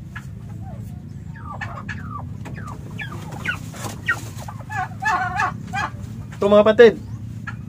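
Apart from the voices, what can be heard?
turkey hen calling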